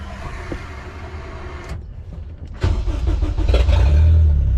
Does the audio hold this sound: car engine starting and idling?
yes